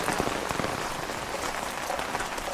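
Steady rain falls around a 1980 International dump truck, a dense, even hiss of drops hitting surfaces close by, with no voices.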